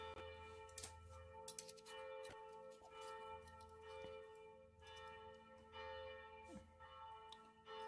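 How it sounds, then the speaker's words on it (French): Faint, sustained ringing of distant bells with lingering tones, punctuated by soft clicks and small nearby knocks. "On a le son des cloches derrière, c'est pas mal, ça rajoute un petit peu de fun."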